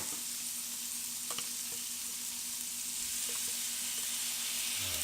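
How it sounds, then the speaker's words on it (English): Garlic added to onions frying in a pan for lamb shank in tamarind: a steady, even sizzle with faint hiss throughout, a few small pops and stirring clinks, close and continuous with no voices. "Now let's add our garlic."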